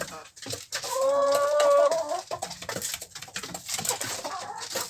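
Hens cluck and squawk close by in a run of rising calls, with more scattered clucking and rustling afterward.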